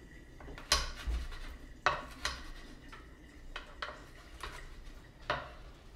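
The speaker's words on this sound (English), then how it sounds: "Now, I'm gonna turn this stainless steel amazing gadget, and I am going to use the chopping part." A stainless steel kitchen gadget chops garlic slices with a series of sharp metallic clacks and thuds, some louder than others, at an uneven pace close by on a countertop.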